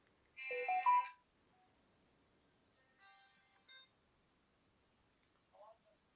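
A phone ringtone from a repeated incoming call, heard as a short melodic electronic jingle followed by fainter, brief tone bursts in a quiet room.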